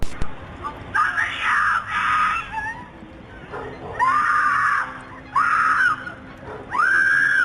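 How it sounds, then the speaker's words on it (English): A victim's screams at night, around 11:30 p.m., in Leimert Park, Los Angeles, picked up by a Ring doorbell camera: repeated loud, drawn-out wailing cries in several bursts, heard from outdoors at some distance. "A Ring camera captured the screams of the victim"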